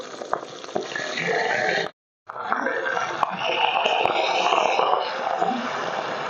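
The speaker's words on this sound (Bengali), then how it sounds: "এবার আমি এটাকে উল্টে দেব উল্টে উল্টো পিঠটা ভেজে নেব" Fish pieces frying in hot oil in a home kitchen pan, a steady dense sizzle broken by a brief silent gap as they are turned, then sizzling resumes loudly.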